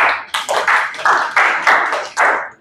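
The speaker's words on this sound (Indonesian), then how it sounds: "tepuk tangan buat Kamila" Students in a classroom clap for a classmate, a short burst of loud, close, overlapping handclaps in a quick uneven rhythm lasting a couple of seconds.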